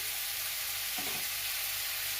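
Potatoes fry in a wok over a medium-low flame, giving a continuous soft sizzling hiss with a brief stir-like rustle in the middle and no talking.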